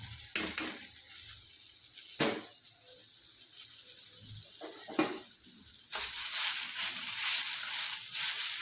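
Chopped leftover chapati sizzling in a pan, broken up by a few sharp scrapes and stirring noises.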